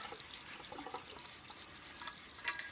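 Running water rinses a pan just scrubbed with a netted dishcloth, making a soft, low splashing flow with a couple of brief clinks toward the end.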